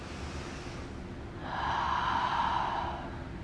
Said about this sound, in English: Nice, slow, steady breath.